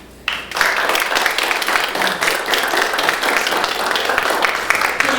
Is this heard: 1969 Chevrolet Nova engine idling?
no